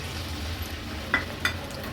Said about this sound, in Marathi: हे प्रॉन्स वडा ना आपल्याला मीडियम फ्लेमवरच तळून घ्यायचे आहेत